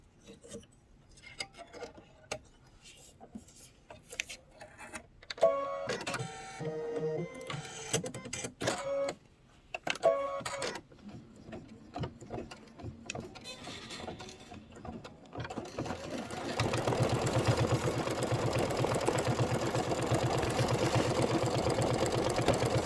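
An embroidery machine stitches out candle wicking in purple thread, giving irregular ticking and clattering bursts up close that settle into a steady, continuous mechanical whir for the final stretch.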